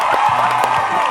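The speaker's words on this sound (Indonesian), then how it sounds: "beri tepuk tangan dong." Studio audience clapping and cheering as a doctor is welcomed onto an Indonesian talk show, a steady burst of applause with whoops, loud and close throughout.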